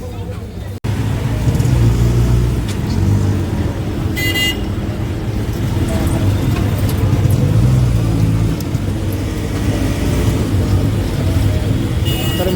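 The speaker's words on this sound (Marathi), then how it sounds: "आपण रिक्षामध्ये चाललो आहे आता" An auto rickshaw rides through traffic with a continuous loud engine rumble and road noise, and a short car horn toot sounds partway through.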